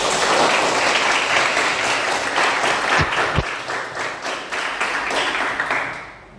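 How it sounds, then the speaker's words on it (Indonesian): Students in a classroom break into applause, a dense burst of clapping that carries on steadily for several seconds before thinning out and fading at the end. "tepuk tangan dulu"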